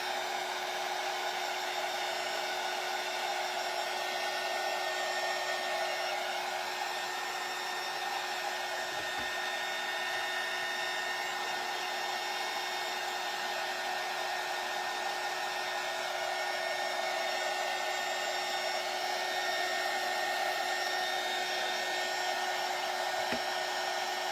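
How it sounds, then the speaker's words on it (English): Air heat tool blowing steadily on the edges of craft pieces for a spring bunny stand, a constant loud whooshing hum with a whine in it, unbroken and alone for the whole stretch. "I'm going to hit them with the air heat tool here for just a second."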